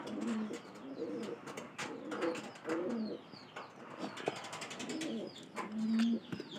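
Released domestic pigeons coo in soft, repeated low phrases, fairly quiet and close, with faint chirps and ticks between the calls and no talking.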